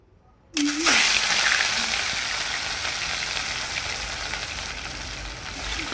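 Fish slides into hot oil and a sudden loud sizzle bursts up, then settles into a steady frying hiss that carries on to the end.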